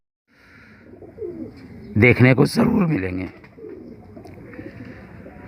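Pale bajra-coloured flying pigeons coo at a loft, soft throaty calls heard near and under someone talking in Hindi-Urdu, with a louder burst of voice and bird sound in the middle.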